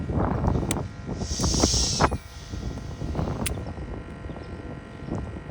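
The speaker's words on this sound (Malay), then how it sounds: "Angin kuat sikit." Strong wind buffets an outdoor fishing spot, with steady gusty noise and rumble over the microphone and a few brief knocks and splashes.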